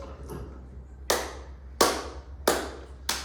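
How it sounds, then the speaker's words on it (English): A single person claps hands in a sparse rhythm: a faint early clap, then four sharp, close, evenly spaced claps in a quiet room. "forced me to clap in sync with the music"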